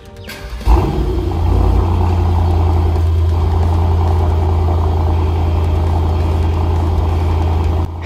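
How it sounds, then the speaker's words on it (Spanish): A Mercedes-AMG GT53 starts up close by: a short crank and a sharp, loud flare of revs, then a steady, deep rumbling idle that holds for several seconds without talk. "Así que bueno, vamos a encender el auto."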